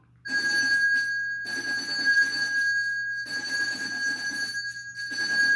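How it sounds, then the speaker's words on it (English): A bright, sustained metallic ringing with steady overtones, repeating in pulses separated by short pauses, fairly close and loud. "Let's ring this bell."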